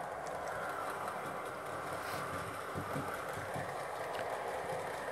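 A Roco model ICE 2 train pulls out of track 1 at a model railway station, giving a steady, continuous broadband rumble that holds at an even level throughout.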